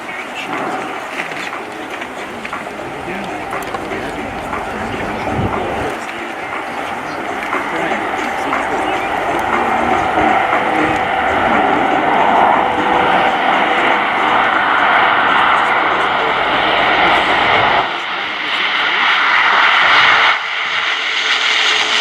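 A C-27J Spartan military transport flies a touch-and-go at the RIAT 2018 air show, its loud, sustained turboprop roar swelling and holding close for the whole stretch with slight dips near the end.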